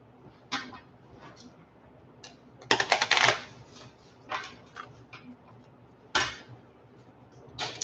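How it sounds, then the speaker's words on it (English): Numbered cards or tiles, one through twenty, are shuffled by hand in a few short rustling bursts with quiet gaps between them, fairly close and alone with no talk. "Give them a little shuffle."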